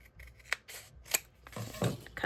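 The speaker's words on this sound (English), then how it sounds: "I should just kind of trim this one a little straighter" Scissors snip along the edge of a recycled paper gift tag. A few quiet, crisp cuts come close together, followed by a slightly rustling closing snip.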